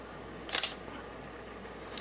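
A Canon T series DSLR camera fires its shutter once, a crisp, close mechanical click against a quiet room background.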